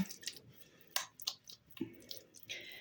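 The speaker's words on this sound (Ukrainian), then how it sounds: "ліплю такі котлетки, хто які хоче по величині" Minced meat cutlets are pressed and shaped by hand moistened with water or oil, producing soft, wet squishing and slapping sounds with small clicks, close and fairly quiet.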